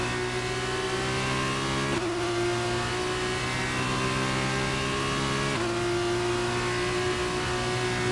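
A race car engine in an F2 sprint racing video game, set at Qatar and the Circuit of the Americas, drones at a steady high pitch with abrupt shifts in tone as it revs through gears, continuous and fairly loud.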